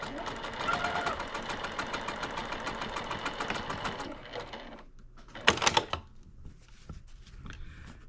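A sewing machine runs a steady mechanical whir while stitching a quilt block seam, continuous for about four seconds before stopping, followed by a short burst of handling clatter and quieter shuffling.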